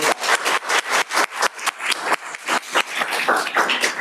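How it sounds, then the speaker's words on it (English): Audience applause at an NC State College of Science senior recognition ceremony, a few nearby hands clapping in a brisk, uneven rhythm for about four seconds, loud and close. "let's give her a big round of applause"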